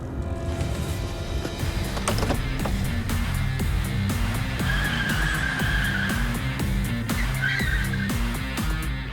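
A car drives up on a wide, empty runway, its engine and rolling tires forming a steady, fairly loud rumble that holds throughout, with a brief higher squeal partway through.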